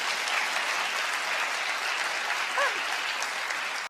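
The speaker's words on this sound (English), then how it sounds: "Clap if you understand what I'm saying." An audience claps and cheers continuously for about four seconds, a dense, loud wash of applause that cuts off abruptly at the end.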